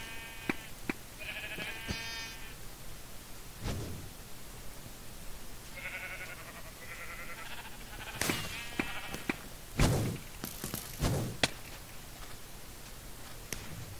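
Several nasal Minecraft sheep bleats sound in a Mineplex game, spaced out over a low steady hum and scattered clicks and thumps from gameplay.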